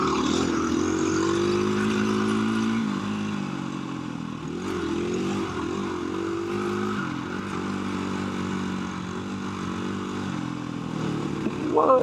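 A KTM 350 dirt bike runs across desert terrain with the throttle held open, its engine drone steady and loud from the rider's position, shifting pitch slightly over bumps with a brief surge at the end.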